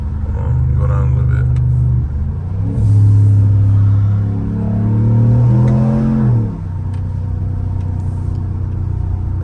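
A RAM TRX pickup truck's engine rumbles steadily while driving, rising and falling as the revs swell and ease back, with a deep, loud drone throughout heard from inside the cab.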